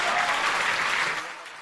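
Applause and shouting fill La Moneda in Chile as Piñera's new cabinet is presented, a dense wash of clapping that fades slightly toward the end.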